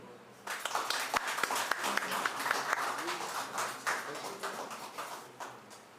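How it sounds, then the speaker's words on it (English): Seminar attendees at an ICISSM annual event applaud an MOU signing, starting quietly, then swelling into steady, moderate clapping with distinct individual claps near the front, a murmur of voices underneath. "A round of applause, please."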